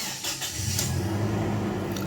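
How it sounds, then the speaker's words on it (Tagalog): Toyota Innova engine with heavy oil consumption and a check engine fault, cranking briefly then catching into a steady idle hum, close and continuous. "Pa-start ko nga itong makina para makita ko kung lalabas yung check engine dito sa dashboard."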